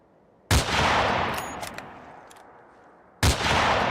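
Two loud, sharp sniper rifle shots from the video game Fallout 4, each followed by a long rumbling echo that slowly fades, with the second shot coming about three seconds after the first.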